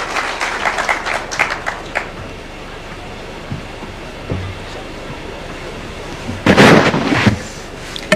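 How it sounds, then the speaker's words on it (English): An outdoor crowd at a trade fair at Uhuru Gardens, Nairobi gives bursts of applause, with scattered clapping at first, a quiet stretch, then a louder swell of clapping near the end. "Let's clap for her."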